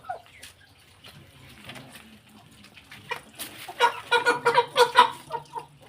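Rhode Island chickens about three months old in a backyard, with soft scattered clucks early and a denser run of close, louder clucking and chatter toward the end.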